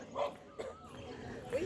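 Dogs bark and yip at each other in short sharp bursts, a few close barks spread across the moment, with a quieter whimpering tone between them and a little talk under them.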